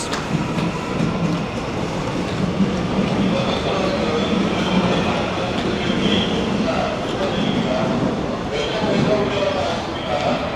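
Steady rumble and rattle of a metro train running along the tracks at Yongsan, Korea, with people talking over the noise throughout.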